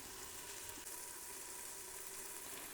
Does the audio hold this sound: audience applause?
no